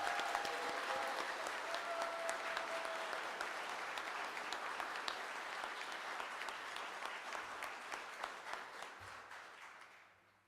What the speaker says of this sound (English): Let's give our new fire chief a big round of applause.